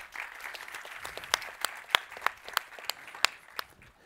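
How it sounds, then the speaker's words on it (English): Audience applause for a panel of speakers at a tech conference, sparse and fairly light, with distinct individual claps standing out over a soft wash of clapping. "Please give a warm applause for our speakers."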